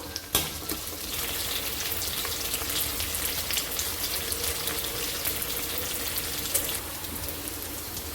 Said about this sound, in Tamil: மிளகாவையும் பூண்டையும் சேர்த்து மிக்ஸ் பண்ணிக்கிடுவோம் சேர்த்து நல்லா வதக்கிக்கிடுவோம்